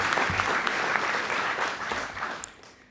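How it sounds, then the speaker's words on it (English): An audience at a health innovation event claps loudly and continuously, dense applause that tapers off toward the end. "Let's give them a round of applause."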